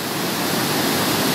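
Cachoeira da Proa waterfall in Carrancas, Minas Gerais, roaring as a steady, dense broadband rush of falling water close by, unbroken throughout.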